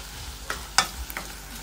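Cumin is stirred into goulash soup in a pan, giving a few short scraping and clinking stir sounds over a low steady background, fairly faint with no voices.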